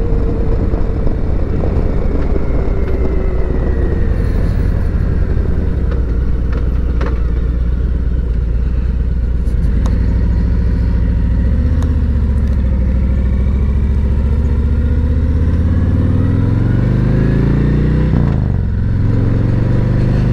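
Harley-Davidson motorcycle being ridden, a loud continuous low engine rumble with gear changes and shifting revs, mixed with wind and road noise, close throughout with no talking.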